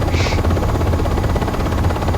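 A UH-60M Black Hawk helicopter flies in the Aerofly FS4 game, giving a loud, steady rotor drone with rapid blade chop that lasts throughout without a break.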